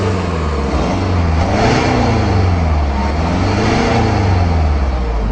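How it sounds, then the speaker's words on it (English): The diesel engine of a Mercedes-Benz SLK 250 CDI sports car drones loudly and steadily, revving up and down in slow waves, heard from nearby with no talking. "You just get this diesel noise"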